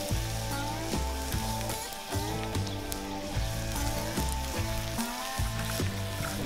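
An egg frying in butter on a soapstone egg accessory set over an outdoor fire pit, with a steady, close sizzle crackling throughout alongside low background rumble.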